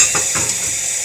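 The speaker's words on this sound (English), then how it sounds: "I like the sound of sizzling" Burdock root sizzling while frying in a pan, a close crackling hiss with soft stirring scrapes over one short burst.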